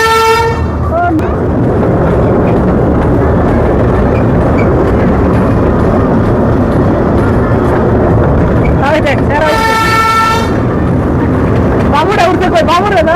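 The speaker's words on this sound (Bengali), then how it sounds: "তো আমাদের মিনি ট্রেন অলরেডি স্টার্ট" Amusement park mini train ride at Fantasy Kingdom, Bangladesh, with loud bright horn toots at the start, mid-clip and at the end over constant rolling rumble and crowd noise, people talking throughout.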